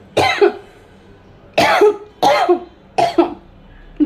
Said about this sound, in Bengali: আমার কাশি উঠে গেছে